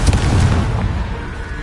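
A Confringo fire-blast spell from Hogwarts Legacy on PS5 goes off as a loud, booming burst with a heavy low thump that decays into a rumbling tail over under two seconds, no talking.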